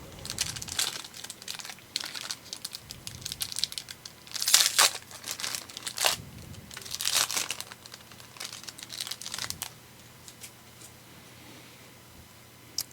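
Disney Lorcana Reign of Jafar card packs being torn open, with repeated close crinkling and tearing of foil wrappers in bursts, then quieter handling toward the end.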